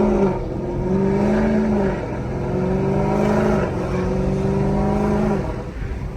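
A Dodge Charger Scat Pack fitted with a Corsa Extreme cat-back exhaust on its first drive, its V8 note holding a steady, moderately loud drone that rises and dips in pitch as the car cruises, with no voices.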